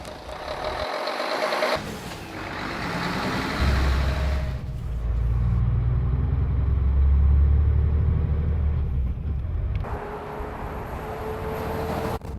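A Mercedes-Benz Actros truck pulls away and accelerates, its deep engine rumble swelling and holding steady for several seconds before easing off, with a faint high beeping tone near the start and end.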